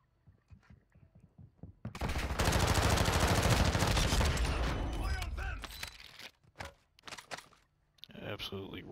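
Mortar fire and shooting in Warzone 2. A dense, loud barrage of blasts and gunfire holds for about three seconds, then sharp scattered shots and booms trail off, with voices talking between them.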